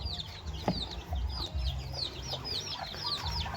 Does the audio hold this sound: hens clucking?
yes